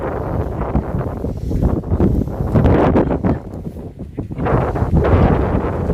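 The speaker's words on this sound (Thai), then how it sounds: "ลมแรงมากครับ" Strong wind buffets a riverside campsite at Wang Bon in Nakhon Nayok, Thailand, blasting the microphone with loud, continuous rumbling gusts that swell and ease over several seconds, with no talking.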